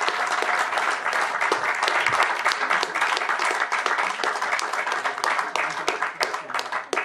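A room full of people applauds steadily and loudly, dense clapping that holds for several seconds and starts to thin near the end.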